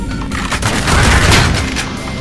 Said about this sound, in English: I heard somebody shooting at me.